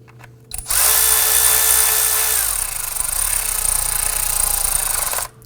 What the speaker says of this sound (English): Install the bolt. And then want to go ahead and snug it down.